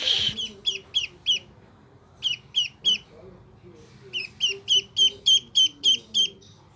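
Repeated sharp honking calls from domestic ducks come in groups of three to six, loud and close, with short gaps between bursts.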